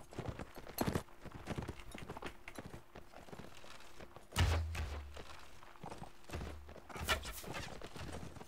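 Horse hooves clip-clop in the video game Warband, a run of quick muffled thuds near at hand, pausing briefly, then resuming with a few heavier knocks and faint background ambience.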